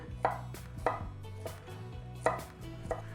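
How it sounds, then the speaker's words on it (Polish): A knife slices a carrot into rounds on a cutting board, giving several crisp, evenly spaced chops close by with no talking. "Marchewka, kroję w plastry"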